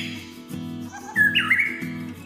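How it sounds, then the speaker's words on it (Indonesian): A white-rumped shama sings a loud, clear whistled phrase with a rising, warbling flourish, heard close over a repeating rhythmic music bed. "suara murai batu bahkan lebih lantang dan nyaring daripada kicauan burung yang"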